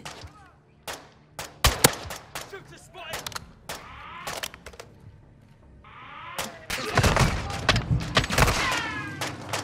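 Sniper rifle fire in Call of Duty, sharp separate cracks spaced irregularly, then a louder, busier cluster of shots and impacts toward the end.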